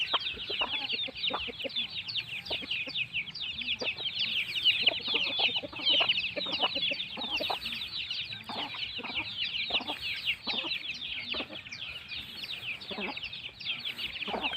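Domestic chickens cluck and chirp continuously at a morning feeding, a dense close flock with repeated short clucks over a steady bed of higher chattering calls, no talk.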